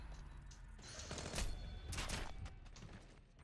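Gunfire in the stealth shooter Splinter Cell Blacklist: a few short bursts of shots, moderately loud and a little distant, over low game ambience with no talk.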